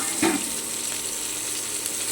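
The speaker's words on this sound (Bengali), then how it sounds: "পেঁয়াজটা একটু ভেজে নিই আমি" Onion sizzles in hot oil in the pan where tilapia was just fried for a Bengali fish curry, a steady, close hiss with a brief stir-like scrape near the start.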